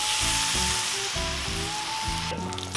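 Hickory smoked bacon sizzles on a Cuisinart 360° griddle: a steady, close, crackling hiss with dense popping spatter throughout, alone and without talk.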